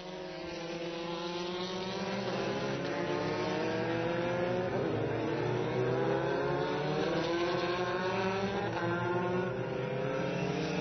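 Formula 3 race cars speed around the wet Interlagos circuit, their engines a continuous loud roar with shifting pitch as cars jostle closely for position throughout.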